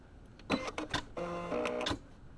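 A sewing machine stitching in reverse on a small round drawstring pouch, heard close and in short whirring bursts, then a steadier run of stitching that stops abruptly.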